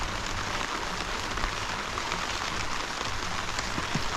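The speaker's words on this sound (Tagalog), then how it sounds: "Lumalakas yung ulan" Heavy rain pours down steadily in a dense, unbroken hiss, with occasional louder drops spattering nearby.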